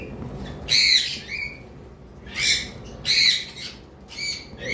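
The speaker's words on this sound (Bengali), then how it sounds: "এবার আসি ব্লু কুনোর আমাদের কাছে এখানে আরও দুইটা পেয়ার রয়েছে" Blue conure parrots let out loud, harsh squawks in short bursts, about five calls spaced irregularly, close by against a quiet background.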